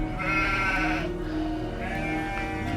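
Sheep bleating, a drawn-out wavering call followed by a second shorter bleat, fairly close and loud.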